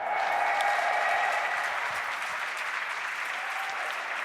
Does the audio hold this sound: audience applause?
yes